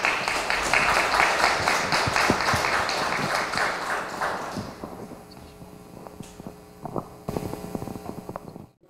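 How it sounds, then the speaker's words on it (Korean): An audience at a consumer cooperative forum in a hall claps to welcome a speaker, a dense burst of applause that thins out into scattered individual claps as it fades away. "장관님을 박수로 맞이해 주시기 바랍니다."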